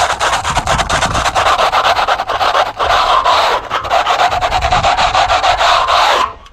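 Continuous close-up scraping as a raised ridge is taken off a surface, with steady rasping strokes that run for about six seconds before stopping abruptly. No one speaks.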